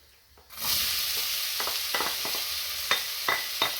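Chopped onion drops into hot oil with popping cumin seeds, and a loud burst of sizzling jumps in and settles into a steady close hiss. Stirring scrapes and small knocks come through it.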